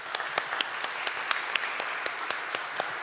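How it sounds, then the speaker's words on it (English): Audience applause for a forum panel on human performance and resilience, a steady moderate wash of clapping with sharper individual claps standing out at a regular pace, no voices over it. "How about joining me in a round of applause for this wonderful panel?"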